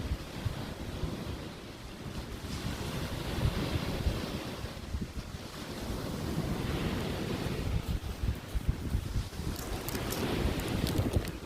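Sea waves wash onto the shore at night in a continuous surging rush, swelling and easing, with wind buffeting the microphone and no speech.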